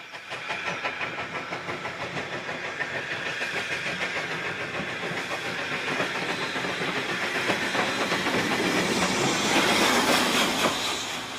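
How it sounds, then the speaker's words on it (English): A heritage train carries out a run-round manoeuvre at the Loughborough Up platform, with rhythmic wheel clatter over rail joints and a steady hiss that build gradually louder and nearer throughout, no voices present. "Having arrived with the train in the Loughborough Up platform, the run-round manoeuvre is carried out"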